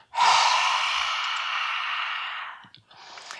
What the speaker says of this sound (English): 2 more, inhale, exhale